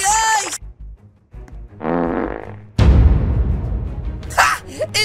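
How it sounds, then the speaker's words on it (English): A loud, buzzy cartoon fart sound effect from the Roblox Brookhaven game rips out in short bursts, followed by a longer noisy blast and more game sounds. "Now, Nuke, fart attack."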